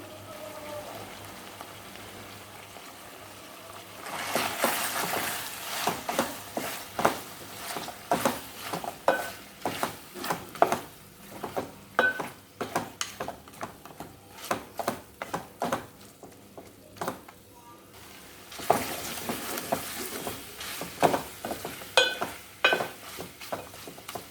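Mutton chops and gravy pieces fry in an uncovered pan with onion paste and curry leaves, a steady crackling sizzle with bursts of spitting and stirring, nearby and fairly quiet, no talking.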